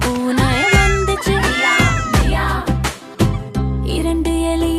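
A cartoon cat in an animated story about a town mouse and a country mouse meows repeatedly and loudly over a backing music track.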